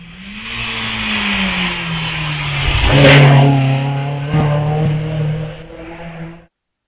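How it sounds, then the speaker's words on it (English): A Bristol two-litre racing car climbs the Wiscombe Park hillclimb course, its engine note rising loudly as it accelerates close by, then holding a strong steady drone before cutting off abruptly. "As across the parkline goes David Newman, contesting the Bristol 2-litre Cup."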